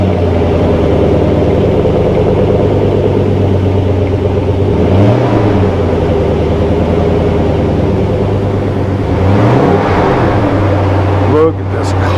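A 1939 Zephyr custom cabriolet engine cold-started and idling, a loud, close, steady low rumble with a few brief swells in pitch and a short clatter near the end.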